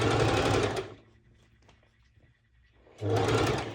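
A sewing machine stitches through two layers of fabric while hemming lettuce-edge bottoms, running in two steady buzzing bursts separated by a quiet pause with faint handling noises.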